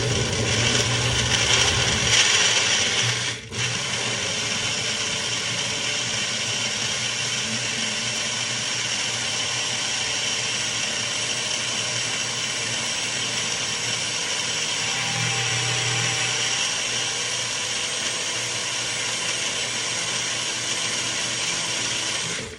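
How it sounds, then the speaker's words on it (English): A blender whirs steadily, churning a smoothie of banana, almond milk, hemp hearts and maple syrup, a loud continuous grinding drone with a brief dip early on and no talking. "I make smoothies when my son's not home because he doesn't like the sound of the blender."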